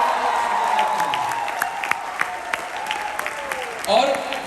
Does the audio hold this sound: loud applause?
yes